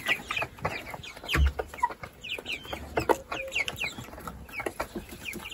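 Broiler chickens raised for meat cluck and squawk in a coop, a busy overlapping chorus of short calls close by, with scattered thumps and shuffling.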